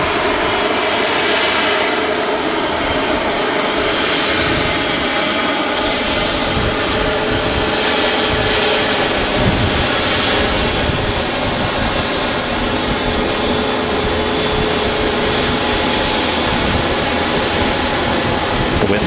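Airbus A350 airliner engines at Manchester Airport, a loud continuous roar with a steady whine, heard from nearby without pause for the whole stretch, with faint voices in the background.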